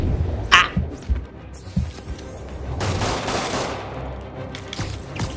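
Rapid bursts of gunfire from the Marvel's Spider-Man video game, mixed with combat thumps and impacts, loud and close in an irregular rhythm.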